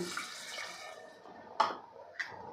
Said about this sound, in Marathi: आता यामध्ये घालायचं आहे आपल्याला एक कप पाणी